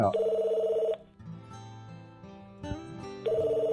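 A telephone bell rings in bursts, pausing between rings, with a low background tone running underneath.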